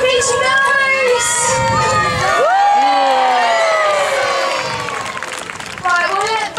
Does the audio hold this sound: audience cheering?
yes